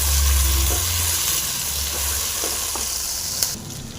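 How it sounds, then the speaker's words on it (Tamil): Cauliflower gravy with curry leaves and coriander fries in a pan with a loud, continuous sizzle close up. Occasional stirring scrapes come through, and the sound eases slightly toward the end without any talking. "எல்லாம் சேர்த்து நல்லா ஃப்ரை பண்ணிக்கலாம்"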